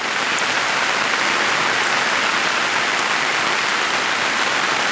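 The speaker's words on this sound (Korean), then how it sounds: "비가 와서" Steady rain falls on a farm on a rainy afternoon, a dense, even hiss of drops on surfaces that holds constant throughout with no voices.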